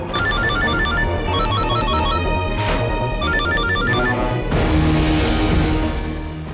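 A phone ringtone rings for a call from mum, a repeating melodic electronic tone pattern playing steadily and clearly the whole time, with no talking.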